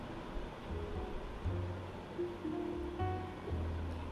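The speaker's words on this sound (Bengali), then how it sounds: "সামান্য গ্রেভির জন্য জল দিয়ে ফুটিয়ে নিচ্ছি" Jackfruit biryani gravy boiling with added water gives off a steady, close bubbling hiss, with faint tonal sounds running beneath it.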